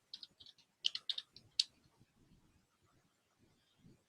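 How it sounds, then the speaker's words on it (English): Keystrokes on a computer keyboard at a library search terminal, a quick burst of light clicks followed by a few sparse taps, close and fairly quiet with a faint low murmur underneath. "let's say I type in Divergent"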